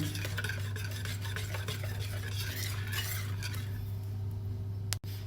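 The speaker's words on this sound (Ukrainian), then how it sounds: "І все це перемішуємо." Salt and seasoning are stirred into food in a bowl, a close, steady scraping and mixing texture over a low hum, fading near the end before a sharp knock.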